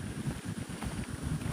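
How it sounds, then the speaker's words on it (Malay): Strong wind roars in an in-game exploration setting, a steady low rumbling gust with a faint hiss, continuous and fairly loud throughout, no voices. "Tapi cuaca sini angin kuat."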